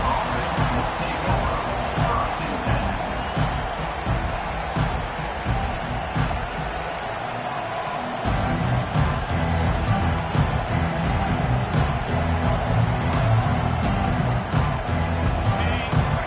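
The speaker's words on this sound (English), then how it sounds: "It's early, but this crowd is fired up. Listen to this noise here." A fired-up crowd roars at an early-game American football stadium, a dense, loud, sustained wall of noise with cheers and whoops swelling in the second half, under faint voices.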